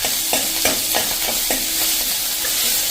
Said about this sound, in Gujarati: આદુ, લસણ અને મરચાની જે પેસ્ટ કરી છે ને એ 1 ટીસ્પૂન જેવી નાખી દેશું અને એક લીમડાના 10 થી 12 પત્તા નાખી અને આને આપણે કૂક થવા દેશું